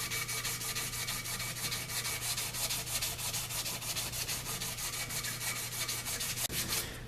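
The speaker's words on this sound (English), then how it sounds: "Now I'm going to go over it with some sandpaper." Sandpaper rubbed by hand over the trigger guard of a Lyman Great Plains muzzleloading pistol kit, a steady rapid scratching of even back-and-forth strokes, close and continuous throughout with no talking.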